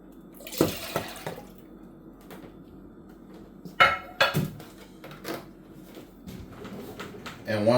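Two cups of milk poured for egg nog in a kitchen, with light splashing and clinking of dishes and utensils in short bursts, close by and fairly quiet, with talk around it.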